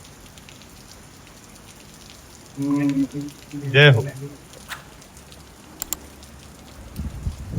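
Steady rain falls across an outdoor shed area where a Punganur cow and calf are kept, a constant soft hiss throughout, with a brief spoken exclamation and voices rising over it midway.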